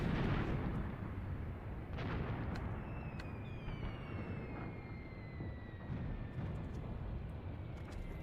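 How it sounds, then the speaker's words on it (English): Bombs dropping and heavy explosions in a WW2 Eastern Front winter battle video game, a dense continuous rumble of blasts with a few sharp cracks and falling whistle-like tones overhead. "When you hear that bombing sound, see, that's a bomb drop sound."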